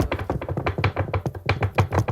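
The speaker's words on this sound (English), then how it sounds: "knock on wood, knock on wood." Rapid, repeated knocks on a hard surface, a steady run of close, fairly loud taps with no talk over them.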